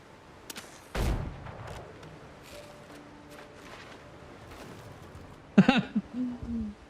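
Two musket shots ring out in the pirate sailing game Windrose, a sharp blast near the start and another about four and a half seconds later with a ringing tail, separated by quiet ambient game sound.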